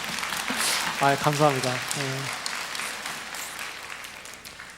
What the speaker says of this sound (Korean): 박수는 3부 예배밖에 안 나왔는데